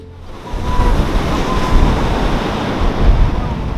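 Ocean surf at Adina Landing Beach in Ghana's Volta region, a steady loud wash of breaking waves with wind rumble, swelling slightly in pulses and with no talking.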